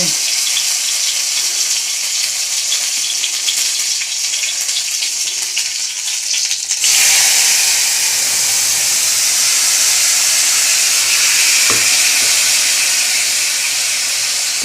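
Panch phoron spices and chilies frying in hot tempering oil, a steady broadband sizzle that swells louder midway and holds as a dense hiss, with a brief clatter near the end.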